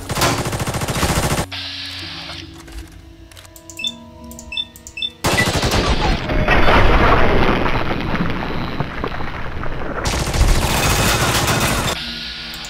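Sustained automatic gunfire from the video game Fallout 3: Broken Steel, loud bursts rattling in dense volleys with a quieter gap in the middle, then resuming heavily.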